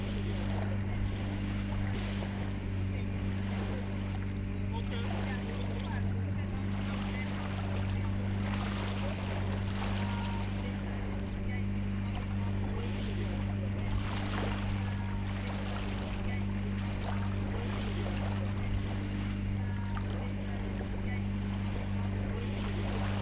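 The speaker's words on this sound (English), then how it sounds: "Some fishermen take advantage of the powerful security boat that we now have, hitching a tow rather than sailing all the way to their traps." A motor security boat travels across a lake with fishermen's boats in tow, a steady low engine drone with a constant hum under wind and water noise, fairly quiet and continuous throughout.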